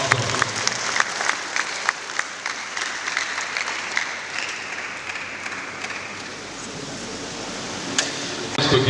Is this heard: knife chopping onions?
no